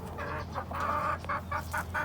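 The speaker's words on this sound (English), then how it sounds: "I just love my chickens." A backyard flock of chickens with a young rooster clucks in a few short, close bursts over a soft background.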